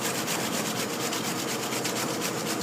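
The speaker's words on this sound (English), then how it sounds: "take one cucumber or half a cucumber according to how many people you're serving, and you just give it a light grate" A cucumber being lightly grated, a steady rhythmic rasping scrape repeated in quick strokes, close and moderately quiet with no talking.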